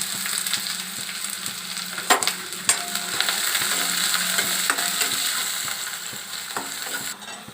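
Onion frying in a pan for Maharashtrian jhunka gives a continuous close sizzle, broken by a couple of metallic spoon knocks and light scraping as it is stirred.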